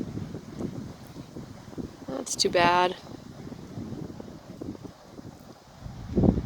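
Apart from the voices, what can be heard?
wind at a lake campsite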